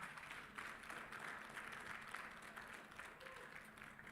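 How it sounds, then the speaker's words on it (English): Audience applause at a graduation ceremony for the iLift Foundation, a steady wash of clapping from a sizable crowd lasting throughout, moderately faint and even with no clear break. "If you are clapping for him, make it loud."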